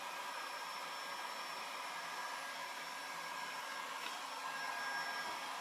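Heat tool blowing hot air under peeling thermofoil on an MDF cabinet to loosen the glue, a steady moderate whooshing drone with a faint whine, constant and unbroken for the whole stretch.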